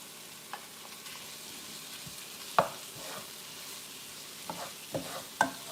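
A pack of sausages fries in a pan for red rice, a West African-rooted dish, giving a continuous low sizzle punctuated by several sharp utensil knocks and scrapes against the pan at irregular intervals, with no voices.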